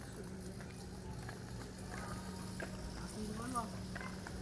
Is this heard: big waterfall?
no